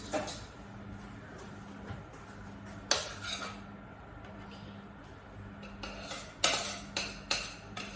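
A spoon clinks and scrapes against a pan of dairy-free cheese sauce, a few sharp metallic taps spaced out over a quiet kitchen background, with a voice speaking faintly at times.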